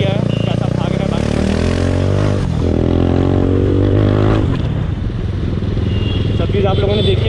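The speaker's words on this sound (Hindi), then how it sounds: "बाइक आप लोगों ने देख ही लिया है कैसा भाग रहा है बाइक।" A Yamaha R15 V3 BS4 motorcycle runs along a road with a loud, steady engine drone and wind rush throughout, the pitch shifting as it accelerates.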